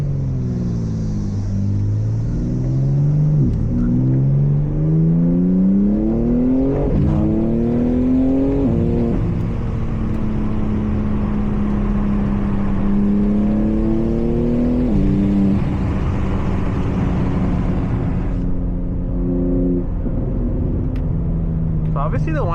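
A 2025 BMW G80 M3 with a straight-pipe exhaust and valve controller drones steadily from inside the cabin as the engine rises and falls through the revs, with loud, continuous rumble and a cabin voice talking over it.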